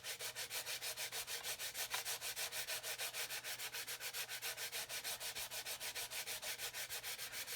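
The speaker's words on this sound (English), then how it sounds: "it's actually the fuselage that wasn't flat. So you can just sand away like that" Steady back-and-forth sanding strokes on a model aircraft fuselage, about four per second, an even close rhythmic rasp continuing throughout with no talk.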